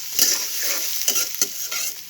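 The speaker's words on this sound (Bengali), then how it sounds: "পেঁয়াজ আর রসুনগুলো দিয়ে আমি সুন্দর করে একটু ভেজে নেব" Loud, close sizzling of onion and garlic frying in hot oil, with rhythmic scraping stirs every few moments.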